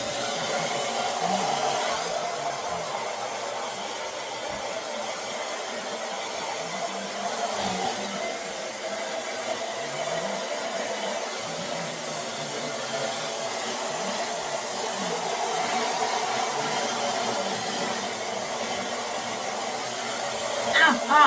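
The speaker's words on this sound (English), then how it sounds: "I hate blow drying my hair because it makes it like frizzy and stringy, even if I do it on low" A hair dryer on low heat blows in a steady, moderate whoosh that carries on unbroken for the full stretch, with faint handling noises underneath.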